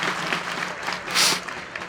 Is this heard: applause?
yes